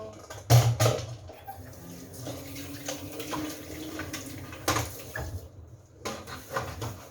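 Dishes being washed under a running tap in a home kitchen sink, a steady low wash of flowing water with soft clinks and scrapes, a louder splash near the start, and faint voices in the background.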